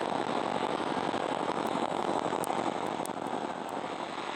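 A concept Givamore car engine in a Roblox racing game drones loudly and continuously, a dense high-revving roar with faint tonal chirps over it, no speech.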